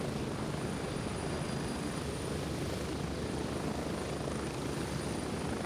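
A military helicopter in the video game Gray Zone Warfare heard from on board, a steady dense rotor and engine drone at even loudness, with no voices.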